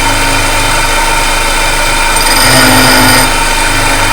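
A tool and cutter grinder hums loud and continuous near at hand, its wheel cutting a workpiece tooth, with a brief brighter grinding swell midway over the steady motor drone and no speech.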